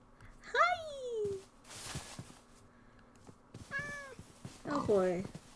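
A cat in the Minecraft video game meows several times, clear rising-falling cries spaced apart, with a person's voice talking between them.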